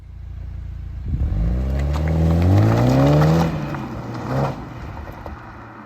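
A Toyota GR Supra with the 2.0-litre four-cylinder engine revs up from idle into a rising, smooth drone that swells loudly and then eases off, heard close with no talking.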